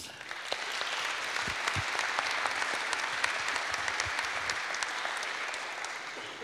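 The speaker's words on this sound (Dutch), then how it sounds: "Pianist Jeroen Hulshoff, mag wel even een applaus." A concert audience applauds a pianist with steady, sustained clapping that stays even for several seconds.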